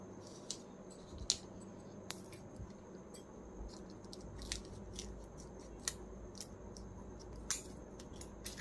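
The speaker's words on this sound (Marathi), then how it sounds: "मोठा देखील गोल करू शकता आपण हा कापून घेऊयात" Scissors cutting a round shape out of paper, a quiet series of irregular snips and crisp clicks, close and faint over a low background hum.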